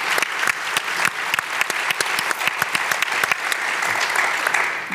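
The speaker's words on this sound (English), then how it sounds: "Please give a warm round of applause for our panelists." A conference audience gives a warm round of applause for the panelists of an identity discussion, steady dense clapping with sharp individual claps standing out throughout.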